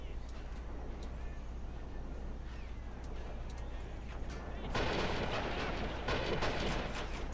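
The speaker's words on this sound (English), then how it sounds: "As the enemy gets closer, the accuracy of the artillery gets worse." Artillery fire in the war video game Army Men of War: a constant low rumble of distant shelling and gunfire, swelling into a louder, denser barrage partway through.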